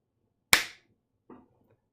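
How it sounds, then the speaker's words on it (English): One sharp, loud hand clap rings out indoors with a short decaying tail, followed about a second later by a faint softer knock, otherwise quiet. "I'm going to clap."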